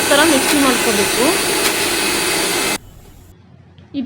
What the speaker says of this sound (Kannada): ಸ್ವಲ್ಪ ಆನ್ ಆಫ್ ಥರ ಮಿಕ್ಸಿ ಮಾಡ್ಕೋಬೇಕು.